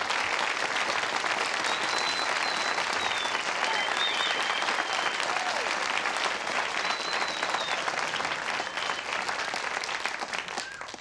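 Dense, steady studio audience applause and hand clapping on a late-night talk show, a continuous loud roar of many hands with some whoops, sustained throughout.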